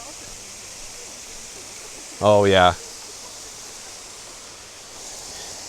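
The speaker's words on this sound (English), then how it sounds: "Now we have made it on the other side of the waterfall." Waterfall at Whatcom Falls park gives a steady, soft rushing hiss throughout, with a brief spoken exclamation in the middle.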